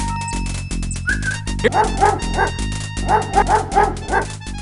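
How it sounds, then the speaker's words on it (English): A dog in the video game King's Quest V barks and yips repeatedly while digging at a large anthill, with bright, lively yaps over a steady musical game soundtrack and no talking. "A bully of a dog terrorizes the poor ants as he playfully digs at their large anthill."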